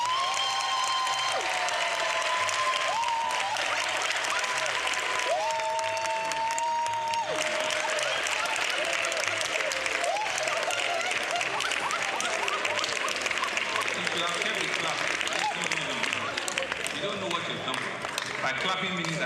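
Applause from an audience at an official government event in Lagos rolls on steadily throughout, with a speaker's voice ringing above the clapping.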